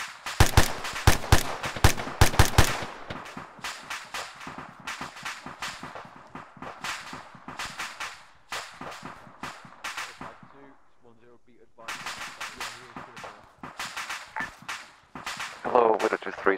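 Rifle and machine-gun fire during 6th Airborne Division training: dense bursts of sharp cracks, very loud at first, thinning to scattered shots with a short lull, then picking up again, with radio-style voices mixed in.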